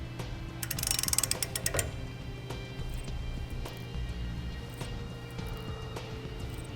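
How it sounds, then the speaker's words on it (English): A ratchet clicks rapidly as it turns a bolt on a Fastway e2 weight distribution hitch being fitted to a trailer, giving a close burst of clicks followed by quieter mechanical handling. "we're going to want to turn that bolt one more half turn"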